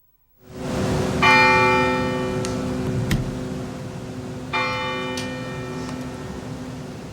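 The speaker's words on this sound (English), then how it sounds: "The South Building bell tolls for the 6 Carolina alumni who died on September 11th." The South Building bell on Polk Place tolls at a September 11 memorial ceremony, two loud, ringing strikes a few seconds apart, each sustaining a long shimmering decay outdoors.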